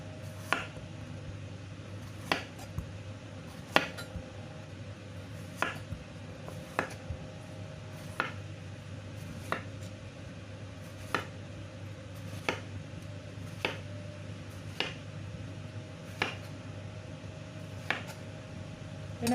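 A knife slices through peeled chayote, also called chikwa, on a board in a series of crisp, evenly spaced taps, about a dozen cuts over a soft, constant low hum.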